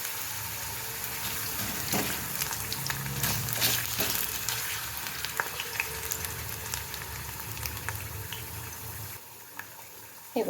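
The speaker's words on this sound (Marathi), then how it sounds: "एक एक करून ह्या चकत्या ज्या आहेत त्या तेलामध्ये सोडायच्या" Potato slices fry in hot oil with a continuous crackling sizzle at moderate volume, scattered pops and clicks over the top, ending with a brief quieter moment.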